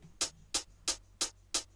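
A crisp hi-hat loop ticking in a steady rhythm, five even bright hits about a third of a second apart over a faint low hum.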